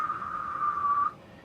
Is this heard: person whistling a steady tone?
yes